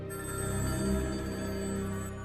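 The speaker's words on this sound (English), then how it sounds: "The phone had already started ringing off the wall." Telephone bell ringing in a 1947 setting, a continuous sustained ring with steady harmonic tones lasting a couple of seconds, moderately loud and alone.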